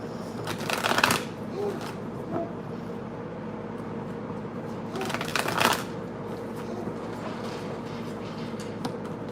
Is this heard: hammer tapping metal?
no